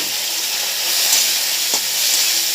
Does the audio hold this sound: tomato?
yes